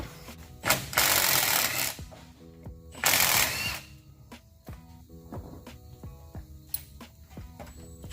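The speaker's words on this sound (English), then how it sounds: "Now that they're broke loose, we can throw an impact on it." An impact wrench working on transmission bolts during removal of a six-speed manual gearbox from a 2000 Ford F-550, with two loud, sustained hammering bursts of about a second each, then scattered clanks and tool knocks nearby.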